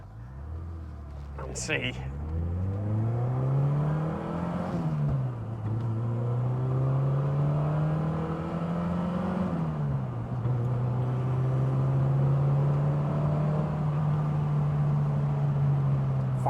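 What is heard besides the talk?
car engine accelerating up through the gears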